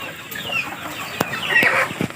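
Darag native chickens clucking on a Philippine farm, several soft close clucks and a few sharper calls over a quiet outdoor background, no talk.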